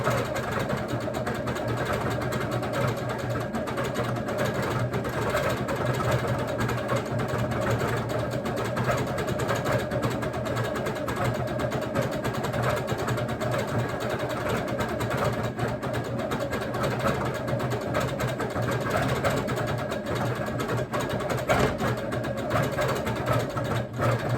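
Sewing machine stitching pebble-pattern quilting on ice dyed fabric, a continuous, even mechanical hum and buzz that holds steady at moderate loudness throughout, with no voices.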